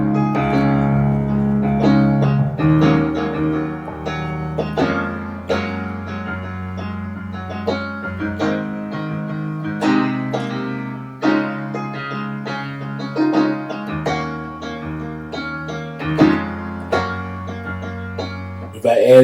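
A keyboard plays a chord progression over a moving bass line, with sustained chords changing every beat or two and a deep bass underneath, close and steady, no voice.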